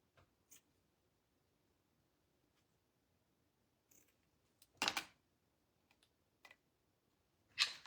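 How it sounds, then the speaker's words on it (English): A few sharp scissor snips cut out a small square during a crafting job, with sparse faint clicks in between and long quiet gaps; no one speaks. "So let me cut out a little square."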